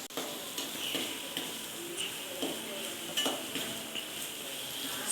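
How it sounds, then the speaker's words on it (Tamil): Soya chunks sautéed in a pan with chilli powder and colouring, giving a continuous low sizzle with steady stirring scrapes and light utensil clinks, close and moderately loud. "சோயா நல்லா ஒரு வெந்த பதம் வர வரைக்கும் நல்லா வணக்கணுங்க"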